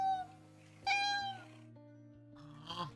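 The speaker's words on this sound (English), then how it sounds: "It's a new meow sound!" Cats meow in the video game Honkai Impact 3rd, with three separate drawn-out meows spaced apart over a steady low game music bed.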